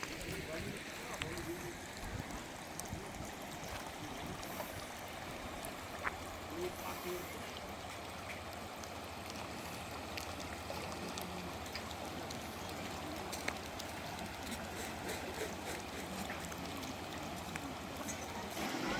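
Fast-flowing floodwater current around a flooded village roars continuously, a broad dense wash of current with scattered splashes and faint voices mixed underneath.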